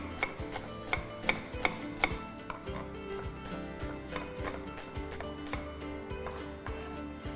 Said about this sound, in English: we'll make a bunch of slices and also cut it into really small pieces